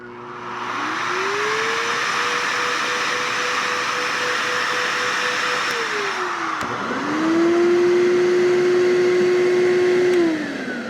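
An Active S350 car dryer blower runs loud and close, its vacuum-like motor whine rising and holding, cutting out briefly, then spinning up again at a higher pitch before winding down.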